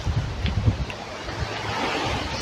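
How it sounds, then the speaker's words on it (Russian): Steady strong wind buffets the microphone outdoors in Krymsk, Russia, with low rumbling gusts, a constant rough roar with no voices. "В Крымске сильные ветра сейчас."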